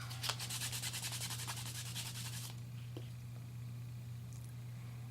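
Rhythmic rubbing strokes as patina is buffed onto an embossed card, a quick run of soft scratchy swishes up close that fades after a couple of seconds into a faint occasional brush over low hum.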